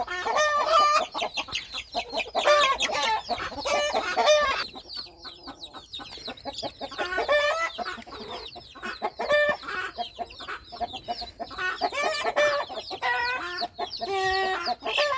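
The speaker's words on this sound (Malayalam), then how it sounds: "കുറച്ച് കോഴിക്കുഞ്ഞുങ്ങളും കൂടി ഉണ്ട്." Hens, roosters and chicks on a poultry farm where some birds have fowl pox keep up near, busy clucking and squawking in repeated bursts, with occasional crowing and no talk.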